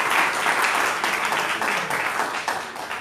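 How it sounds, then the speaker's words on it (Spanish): An audience at a church gathering bursts into a strong round of applause, dense continuous clapping that stays loud throughout, with no voices over it. "Le damos un fuerte aplauso."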